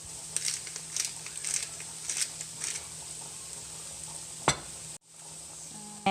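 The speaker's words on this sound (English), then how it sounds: "time to add in the butternut squash noodles, and I'm just gonna saute this for about, overall I would say 5 to 7 minutes" Butternut squash noodles sautéing in a pan with black oyster mushrooms, a soft steady sizzle and crackle with light stirring scrapes, followed by a sharp knock and a brief quiet gap.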